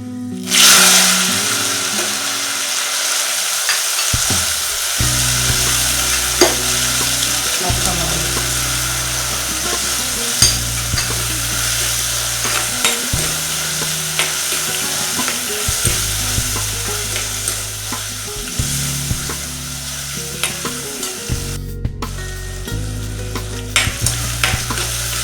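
Tomatoes sizzle in hot oil for a spicy, sour Kerala-style sardine curry with kudampuli, toddy-shop style, stirred in steady scraping strokes throughout, close and continuous with no talking.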